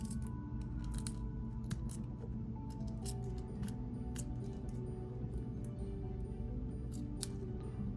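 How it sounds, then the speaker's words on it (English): Wire cutters snip the excess head pin on a handmade crystal earring, small sharp clicks scattered over a steady low background hum, close and quiet with no talking. "Cut off the excess pin."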